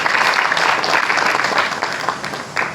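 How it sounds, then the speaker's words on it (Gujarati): An audience at a spiritual motivational gathering gives enthusiastic applause: close, dense, sustained clapping from a crowd for a few seconds with no break. "જોરદાર તાળીઓથી આપણે વધાવી લઈશું"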